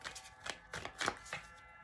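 A deck of tarot cards being shuffled close by, soft rapid riffling bursts in a quick uneven rhythm, quiet and alone.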